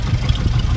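An old Marshall engine kicks over with a low, chugging thump, heard as a brief loud burst of rumble without any talk.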